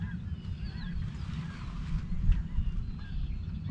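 Snow geese honking outdoors, a dense overlapping flock chorus of calls over a steady low rumble, continuous and fairly loud without pauses.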